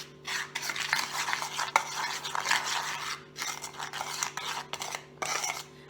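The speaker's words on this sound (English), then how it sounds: "I'm going to go ahead And mix this up really well" Pickles are tossed with dill and seasoning in a bowl, making a close, wet, rubbing and scraping sound in rhythmic strokes, with occasional light knocks of the utensil against the bowl.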